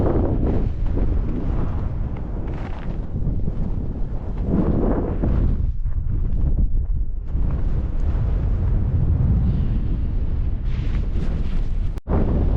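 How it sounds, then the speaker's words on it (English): Strong wind roars and buffets the microphone at an exposed wild camp, a loud continuous rushing with surging gusts and a sharp knock near the end, no talking. "Now the wind's picking up a lot now."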